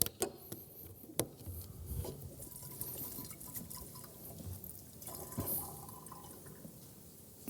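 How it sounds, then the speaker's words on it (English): Liquid is poured from a bottle into a big container, producing gurgling splashes and drips with a few sharp knocks, fairly quiet and without talk. "take the first bottle, okay, and pour it into the big container."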